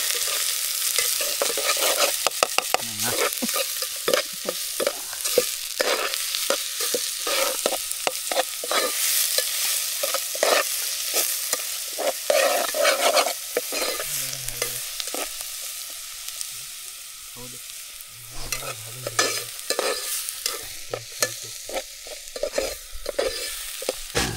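Spices tempering in hot oil for a village farm chicken party, sizzling and crackling loudly and steadily under constant stirring, with scraping bursts and no talk throughout.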